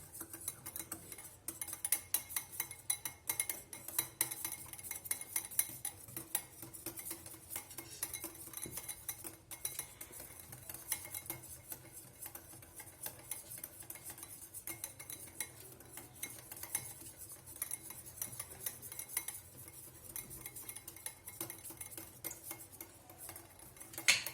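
A whisk beats dalgona coffee mixture rapidly in a bowl, producing a fast, continuous rattling clatter of metal against the dish that keeps up a steady rhythm for the whole stretch, close and unaccompanied by voices.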